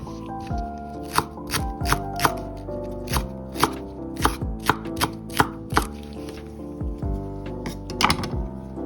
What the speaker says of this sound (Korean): 두부도 이렇게 잘게 썰었습니다